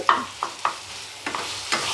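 Spiced jackfruit cutlet mixture being sautéed in a pan, with a spatula scraping and stirring in about four quick strokes over a steady close sizzle, no voices.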